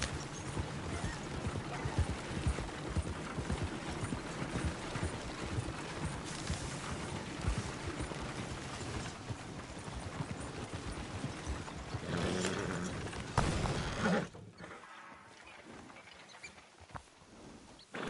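A horse clip-clops along at a steady pace through woods in Red Dead Redemption 2, with rhythmic hoofbeats under a busy ambient bed that drops away abruptly near the end.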